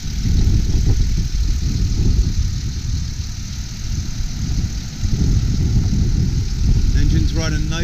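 A 2008 Ford Explorer 4x4's 4.0-liter engine idles steadily with a low, even rumble, continuous and fairly close throughout.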